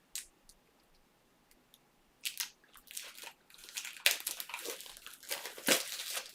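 Trading card packs torn open with crisp, irregular wrapper crinkling and rustling, sparse at first, then in dense close bursts.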